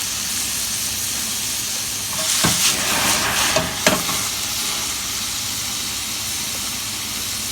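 Garlic and asparagus sautéing in olive oil with white wine, steady hissing sizzle throughout, with a few brief louder scraping stirs of the pan in the middle.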